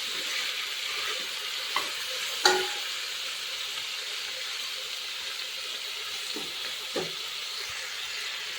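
Vegetables, masala and capsicum frying for a pulao, a steady soft sizzle throughout with a few brief stirring clatters and scrapes in the pan, close and moderately quiet with no talking.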